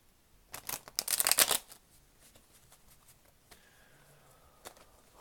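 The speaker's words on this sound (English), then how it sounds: "now we're shuffling for the week" Cards are shuffled in a quick riffle of rapid snapping flicks, then a few faint clicks and taps in a quiet room.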